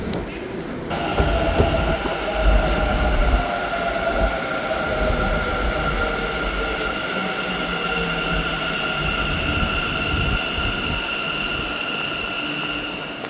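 A metro train runs through an underground line, a loud steady rumble with long high wheel squeals that drift in pitch as it moves, with no one speaking.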